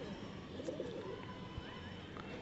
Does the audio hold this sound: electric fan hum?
no